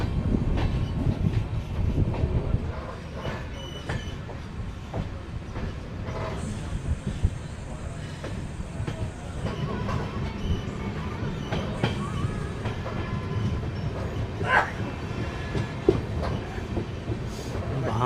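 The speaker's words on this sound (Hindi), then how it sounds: "बदरपुर स्टेशन से खूबसूरत सा डिपार्चर।" Silchar–Agartala Express passenger train pulling out of Badarpur station in Assam, a steady rumble of wagons with rhythmic clickety-clack and occasional wheel squeal, heard from on board and continuing throughout.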